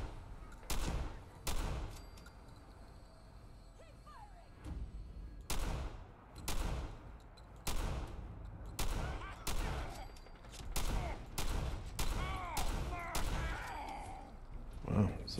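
Repeated gunfire in the Fallout 4 video game, a string of sharp, loud shots at irregular intervals, some in quick bursts, over a low ambient game background with faint voice sounds in between.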